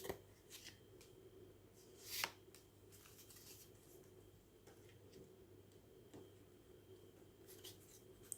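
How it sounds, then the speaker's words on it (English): A deck of tarot cards is shuffled in quiet, irregular riffles and taps close by, with one sharper flurry partway through and no talking. "Let's shuffle again."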